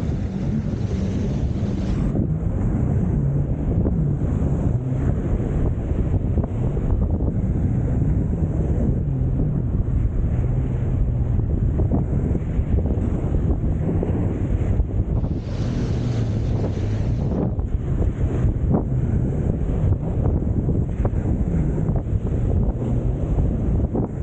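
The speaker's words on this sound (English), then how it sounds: "Tide's coming in and the wind's picked up" Steady wind buffeting the microphone mixes with waves washing in on an incoming tide along the shore of Southampton Water at Calshot, a loud continuous roar with no voices.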